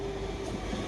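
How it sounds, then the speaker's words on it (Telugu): A train passes close by in a brief, steady rumble of rolling wheels and carriage noise with a faint sustained squeal. "ట్రైన్ అక్కడికి వెళ్ళి వస్తుంది, ఇక్కడికి వెళ్ళి వస్తుంది"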